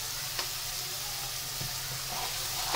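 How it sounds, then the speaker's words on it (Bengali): Turmeric and salt sizzle in hot oil with spices in a pan for a mustard hilsa dish, a steady close frying hiss broken by a few light scrapes of stirring. "এখন আমি মশলাগুলোকে ভালো করে কষিয়ে নিব।"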